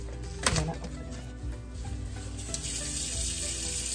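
Water running from a kitchen tap into a sink, a steady broadband hiss that runs through the clip, with a clatter near the start.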